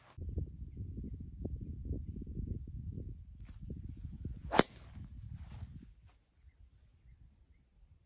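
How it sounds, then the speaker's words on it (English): A Callaway Rogue driver strikes a golf ball with one sharp, loud crack standing out over steady low outdoor rumble, followed by quieter ambience. "Now, you'll notice a whole different tone when it comes to the Callaway Rogue driver"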